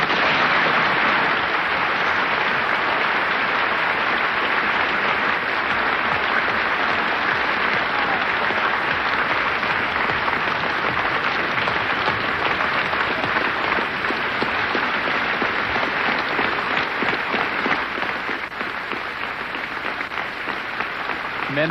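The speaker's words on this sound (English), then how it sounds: "the whole of the Union standing and applauding this magnificent speech of James Baldwin" A full Oxford Union audience stands and applauds James Baldwin at a 1965 debate, producing a thick, steady roar of clapping that fills the hall continuously at a loud, even level without letting up.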